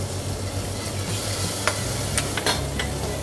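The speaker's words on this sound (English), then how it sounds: "It's just basically to cook out a little bit of the raw garlic and kind of infuse the oil as well with all that cilantro and the white pepper." Garlic, cilantro and white pepper sizzle in hot soybean oil, a close, even crackling fry with a few sharp pops and spoon scrapes over about three seconds, no voices.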